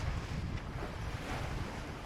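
Steady wind and ocean surf roar continuously around a sailboat on a calm sea with a gentle swell and about 12 knots of wind, on a passage from San Diego toward Cabo San Lucas.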